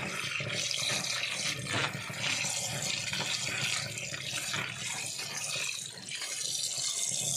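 Steady running water from a tap pours continuously while large sago pearls are washed in a sink for a ginataang bilo-bilo snack, a fairly loud broadband rush with small splashy fluctuations and no talk.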